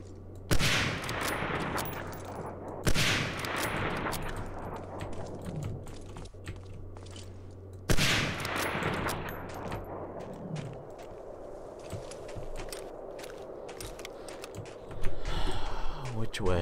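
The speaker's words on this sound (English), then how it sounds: "Need my sniper rifle for that one." Sniper rifle shots in the video game Medal of Honor: Allied Assault, with three sharp, loud cracks that each ring out and decay slowly, spaced seconds apart, against a faint background, plus a louder burst near the end.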